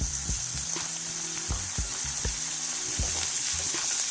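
Mutton frying with onions, green chillies and curry leaves for mutton chukka, a close, steady sizzle and crackle punctuated by quick clicks of a spatula against the pan.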